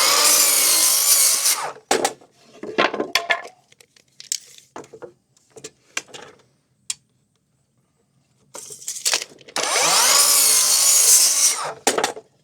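Cedar boards for planter boxes are cut with a power saw: two loud, sustained cutting passes at the start and end, with short bursts of wood handling and clatter between them.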